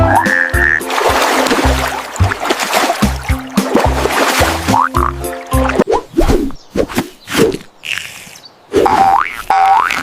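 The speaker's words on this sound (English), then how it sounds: "We are 3 frogs." Cartoonish frog croaks and boing-like sounds repeat over bouncy children's counting-song music, loud and busy, with some watery drips.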